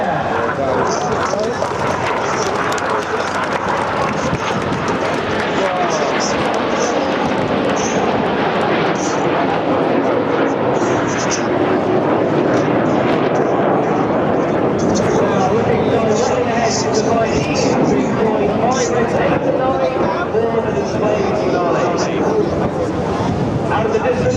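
Red Arrows Synchro Pair jets roar overhead while flying a double roll at a seaside air show in Clacton-on-Sea. The engine noise is broad and sustained, wind buffets the microphone, and an announcer talks over the sound throughout.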